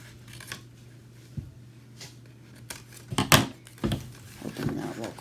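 Scissors trim craft material in a few short snipping cuts near the mic, amid light rustling and handling noise, with a low steady hum underneath.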